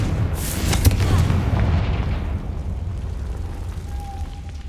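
A Confringo blast spell bursts in Hogwarts Legacy, one loud booming explosion with a crackling rumble that fades away over a few seconds, followed by a faint thin tone.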